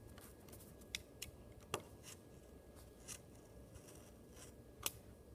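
Scissors snip through a playing card, leaving a few small, dry clicks and crisp cuts scattered irregularly over quiet, close and faint, with no voices.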